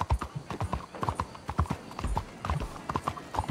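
Horse hooves clip-clopping in the video game Red Dead Redemption, a brisk, regular trotting rhythm of close, distinct hoof strikes continuing throughout at moderate volume.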